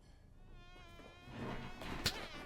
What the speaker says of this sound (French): Oh oui, il y a une mouche.